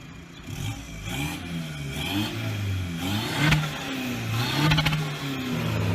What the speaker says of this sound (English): A popcorn limiter is a type of rev limiter used in some cars and tuning setups.